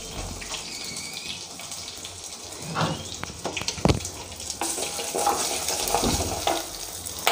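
Spices and asafoetida powder frying in a pan for a Tamil ajwain buttermilk curry, a steady close sizzle with a few scraping stirs and clinks partway through, no talking.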